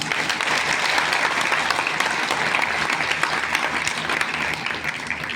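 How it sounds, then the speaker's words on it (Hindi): Loud, continuous applause from a crowd at a satsang gathering in an ashram, many hands clapping densely and steadily from start to finish. "तो स्वरूपदास जी के लिए जोरदार तालियां।"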